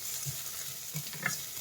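Garlic and ginger fry with sardines in a pan, giving a steady close sizzle broken by a few soft stirring knocks.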